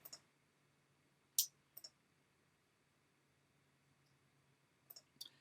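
Sharp, quiet computer mouse clicks come in a few isolated pairs and singles, with a near silent room between them.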